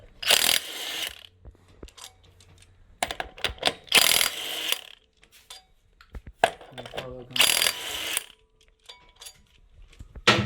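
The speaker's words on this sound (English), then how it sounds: "That's how to pull a flywheel out." Flywheel being pulled from a Nissan GT-R during clutch work in a garage, giving bursts of metallic ratcheting and clanking in several loud clusters with quieter gaps between.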